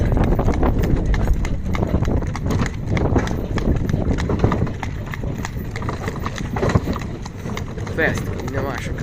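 Steady clip-clop of a draft horse stallion's hooves walking at an even pace with a long stride, close by, with wind and occasional voices in the background.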